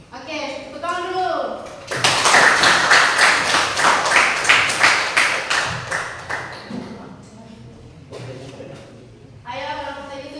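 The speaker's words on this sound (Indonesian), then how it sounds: "Oke, tepuk tangan dulu." Classroom of students clapping for a student group, a dense burst of hand claps lasting several seconds and fading, with a teacher's voice talking before and after.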